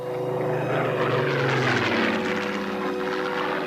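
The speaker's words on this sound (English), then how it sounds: "Merlin engines are fitted to a lot of aircraft, but the Spit's the only one that makes the particular noise that it does" A Supermarine Spitfire with a Merlin engine flies past, its engine a loud, continuous droning roar that swells and then shifts slightly in pitch as the aircraft passes.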